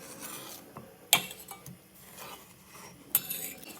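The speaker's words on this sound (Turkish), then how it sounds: "Atırıq və qarışdırırıq. Yəni dayanmadan qarışdırın bunu." Sugar and butter stirred in a pot for milk pudding: a utensil scrapes and rubs against the pot, with two sharp metallic clinks standing out over a quiet kitchen background.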